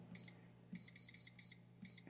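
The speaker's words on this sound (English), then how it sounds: "the timer just went off for our wings" A kitchen timer beeps for cooking wings, giving short, high electronic beeps in uneven clusters, one then several in quick succession, fairly quiet with a faint low hum beneath.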